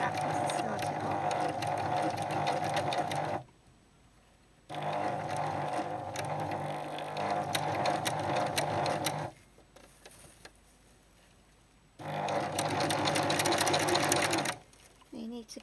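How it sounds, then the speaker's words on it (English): Sewing machine stitching a seam along a crease line on fabric for a crinoline hoop cage, running in steady close bursts of about three to four seconds separated by short quiet pauses, with some speech in the background. "I'm sewing along the crease line on the bottom here. Just go forwards and backwards to start it off."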